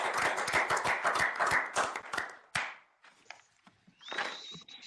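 A small group claps for panelists at a university board of regents meeting, sharp distinct claps for about two and a half seconds that quickly die out, followed by faint room noises.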